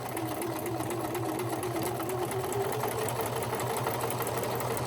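Sewing machine stitching through paper pages of a junk journal, a steady fast mechanical whir with rapid needle ticking, close and continuous with no talk.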